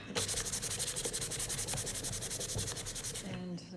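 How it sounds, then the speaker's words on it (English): A sanding glove scuffs varnish off wooden footstool legs in quick, steady back-and-forth strokes, about four per second, close and alone, stopping just before the end. "I'm just going to grab my Sandy Hands sanding glove here and give them a bit of a scuff"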